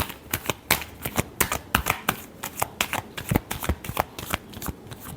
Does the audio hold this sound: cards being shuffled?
yes